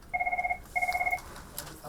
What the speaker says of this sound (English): the phones are ringing off the hook